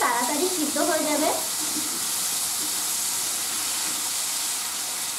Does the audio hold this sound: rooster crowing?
no